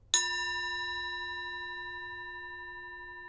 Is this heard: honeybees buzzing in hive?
no